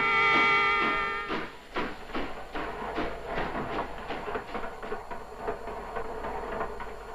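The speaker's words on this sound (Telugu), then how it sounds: "రైలు వెళుతున్న శబ్దం వినిపిస్తోంది?" A passing train near a house: a loud horn-like tone at first, then a rapid, regular clatter of wheels over rail joints that continues steadily.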